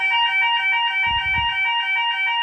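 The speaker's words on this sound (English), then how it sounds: "I got woken up to the fire alarm this morning, which is the most horrific way to wake up." A loud fire alarm blares in steady, rapidly pulsing electronic tones, continuous and close, with a brief low rumble partway through and no voices.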